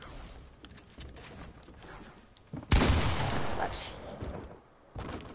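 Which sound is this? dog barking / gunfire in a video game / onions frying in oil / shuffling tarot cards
gunfire in a video game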